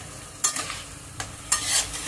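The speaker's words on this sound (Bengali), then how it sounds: "দুটো শুকনো লঙ্কাই ফোড়ন দিলাম।" Two dried red chillies temper in hot oil, heard as a low sizzle broken by a few sharp scraping stir bursts, close and alone without speech.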